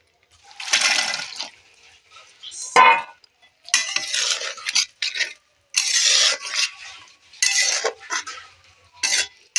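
Rajma stirred into fried spices in a pan, with intermittent bursts of scraping and wet stirring separated by short silences, close and fairly loud.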